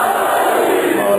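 A large crowd at a religious majlis gathering answers a chant with a loud, sustained collective shout, a dense wall of voices lasting about a second.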